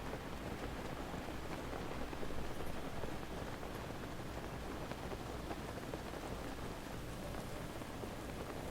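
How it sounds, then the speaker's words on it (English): Steady rain from The Legend of Zelda: Breath of the Wild falls evenly across the whole stretch, a dense hiss of drops on surfaces with no talking over it. "And it's raining here too."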